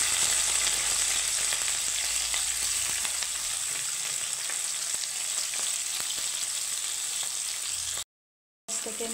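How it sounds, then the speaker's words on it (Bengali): Sliced onion sizzles and fries steadily in a hot pan while being stirred, a close, even crackling hiss with faint scraping, uninterrupted by talk apart from a brief dropout near the end. "পেঁয়াজটাকে আমি একটু হালকা হাতে নেড়ে চেড়ে নেব, একটু ভেজে নেব পেঁয়াজটাকে।"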